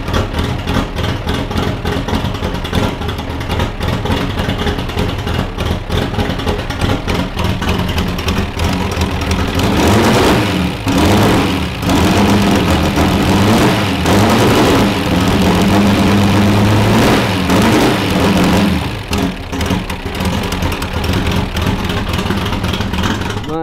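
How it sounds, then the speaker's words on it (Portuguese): Chevrolet Opala turbo engine idling with a loud, lumpy, uneven low rumble that runs steadily throughout, with a few rev swells midway, close to the car. "Essa é a lenta do carro"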